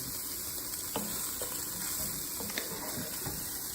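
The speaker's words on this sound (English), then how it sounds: "So enjoy me putting mushrooms into a pot." Mushrooms tipped into a hot pot sizzle quietly, with a soft steady frying hiss and a few scattered stirring clicks and light knocks, close up and without any talk.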